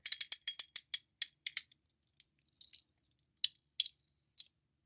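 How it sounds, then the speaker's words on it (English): A quick run of light, bright clicks and rattles as a small white ceramic ball hops on a plastic slider toy, the Pel-c Tita, dense at first, then sparse, separated taps. "it's really just that white ceramic one kind of hopping up and down on top"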